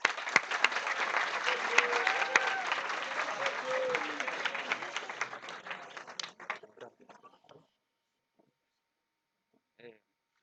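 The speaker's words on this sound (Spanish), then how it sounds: "lo mejor es empezar con un aplauso" An audience applauds before a student interview, with dense sustained clapping at moderate distance for about six seconds, then tapering into scattered claps and silence, with a brief faint sound near the end.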